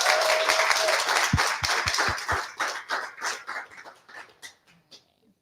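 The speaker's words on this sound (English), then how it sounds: "if we could give him a big round of applause" A graduation audience celebrating the 2023 Hutch class breaks into a round of applause, dense clapping at first that thins into scattered claps and fades out within a few seconds.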